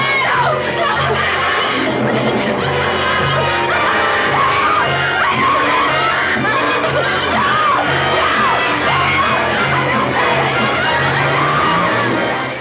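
Women shriek and yell in a horror film, high wavering screams layered over a loud, dense soundtrack that keeps running throughout.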